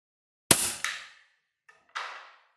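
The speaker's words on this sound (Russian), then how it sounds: "Две дощечки, 4 отсека, ну и, соответственно, будем пытаться в них стрелять." A shot fired at two wooden boards sounds as a sharp crack, followed by a quick second impact and another crack a moment later, all short and distinct in a quiet space.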